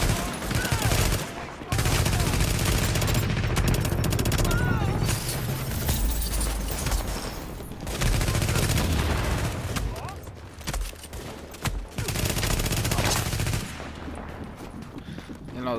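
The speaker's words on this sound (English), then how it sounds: "it seems like the SMG is the way to go" SMG bursts in Tom Clancy's The Division, with rapid loud gunfire salvos repeating over about sixteen seconds amid game effects, and a voice talking at points.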